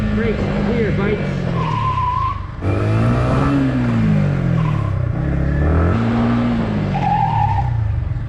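A Benelli 502C motorcycle brakes hard with a loud rising and falling tire squeal and engine revving, close by, while someone talks over it.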